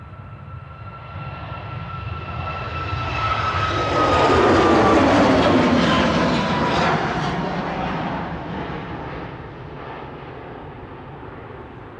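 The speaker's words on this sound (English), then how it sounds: "Departing in parallel to the landing air Rigney is Ryanair heading back to Berlin, not Schönefeld, Brandenburg. 737 MAX 8-200 with flight 1155" A Ryanair Boeing 737 MAX 8-200 jet departs an airport, its broad engine roar swelling to a loud peak midway and then fading as it climbs away, with steady whining tones over the rumble.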